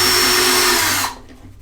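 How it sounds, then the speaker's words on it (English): A cordless drill spins a screw out of a bathroom vanity light bracket with a close, loud, steady whir. The whir cuts off sharply after about a second. "So we're going to put the cordless on it."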